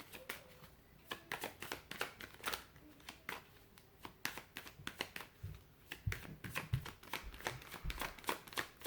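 Tarot cards are shuffled close up in quick, papery riffles and flicks, a fast rhythmic run of soft slaps and rustles at low volume with no talking.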